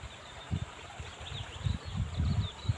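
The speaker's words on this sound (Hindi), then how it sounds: "ये आवाज़ सुनिए पानी की।" Water flows in a small stream in New Zealand, a soft steady rush heard outdoors with low rumbles and faint wind, with no one talking.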